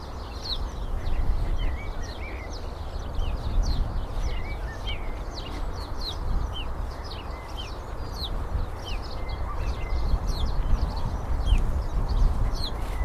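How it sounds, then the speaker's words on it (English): Many birds chirp and call continuously in the background at a UK allotment in March, over a steady low rumble of outdoor noise, with no talking. "You hear the birds."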